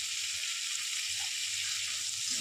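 Ginger garlic paste sizzling in hot oil while cooking snakehead fish, a continuous bright, hissing crackle held at an even level throughout, no talking.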